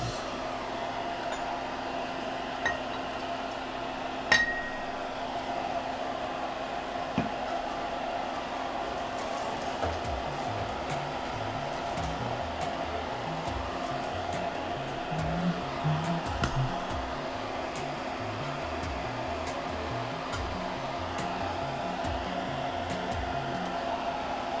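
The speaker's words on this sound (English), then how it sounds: "let's turn on my fume extractor" A fume extractor fan hums steadily through a keyboard soldering build, a faint continuous whir with a few light clicks and taps of handling over it and no speech.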